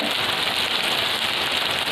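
Tomatoes fry in a pan for a tadka, giving a loud, steady, close sizzle throughout.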